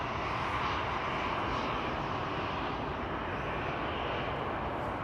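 Boeing 747 departing from runway 24 at Amsterdam Schiphol, heard as a steady, loud broadband engine roar that holds constant throughout with no voices.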